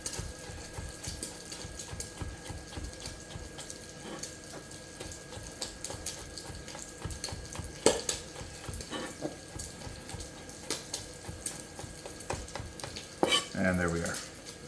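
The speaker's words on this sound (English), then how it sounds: "we're just going to slice this" A knife finely slicing a hot pepper on a board makes quick, rapid taps that run almost continuously at a close but fairly soft level, with a few louder knocks of utensils near the end.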